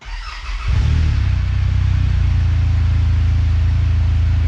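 A 2024 Polaris Ranger XD 1500 Ultimate side-by-side cranks briefly, fires up, then settles into a loud, steady, close-up engine drone that continues to the end, with no talking.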